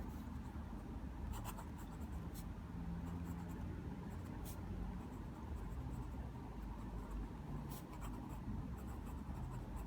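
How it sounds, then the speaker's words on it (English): A Hero 330 fountain pen scratches steadily across paper, writing out a passage in continuous close strokes with a soft, even texture and no speech. "So I'm going to write something."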